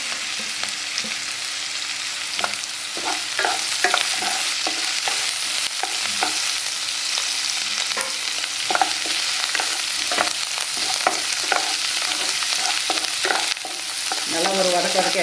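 Onions sizzle and fry in a pan with coconut, coriander leaves and curry leaves, the steady hiss broken by repeated scraping stirs, loud and close throughout with no talk.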